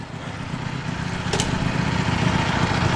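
Steady low engine rumble of motorbikes idling nearby, a continuous throaty drone with a brief higher whine partway through.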